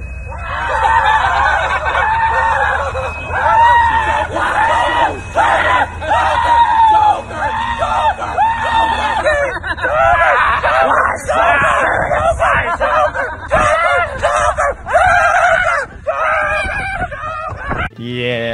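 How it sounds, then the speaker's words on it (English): Clown gang in a GTA 6 Florida setting yelling, shrieking and giggling together in public, a loud, continuous crowd of overlapping screams and cackles with no pauses. "you come across these clowns yelling and giggling like they've just escaped out of some mental facility"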